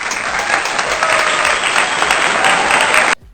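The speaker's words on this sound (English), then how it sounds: "A round of applause for her" Loud, dense applause for a spelling contestant, sustained evenly for about three seconds before cutting off abruptly.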